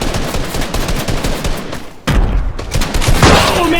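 Shotgun gunfire in a first-person shooter video game, shotguns-only match: loud, continuous rapid blasts and booming impacts fill the whole clip, with a heavier burst near the middle and no talking.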